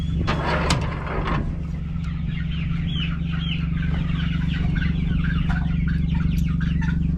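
Pastured poultry chickens cluck in a chorus of soft, overlapping calls over a steady low hum, with a few sharper squawks early on and no one speaking.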